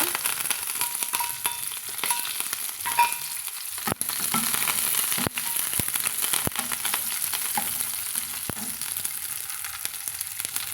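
Chopped shallots and curry leaves sizzling and crackling in hot oil for a jackfruit-seed curry, a loud continuous frying hiss broken by sharp pops and occasional stirring scrapes, close up and without speech.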